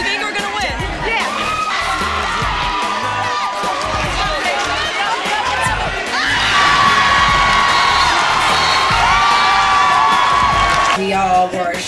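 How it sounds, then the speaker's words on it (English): A packed school gym crowd cheers and whoops at a close basketball game in the last seconds of the fourth quarter, a loud sustained roar that swells louder midway, with shouting voices throughout. "the gym was packed, people were standing, people were cheering"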